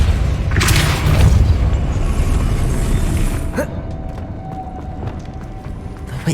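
A Depulso spell cast in the Hogwarts Legacy video game gives a deep booming burst of force, followed by rumbling debris that fades into a quieter game ambience with faint effects.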